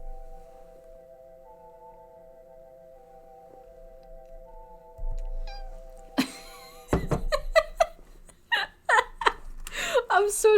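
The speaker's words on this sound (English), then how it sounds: "Did you hear her little meow?" A few short, high cat meows rise over a quiet room hum, with bursts of talking and laughter mixed in.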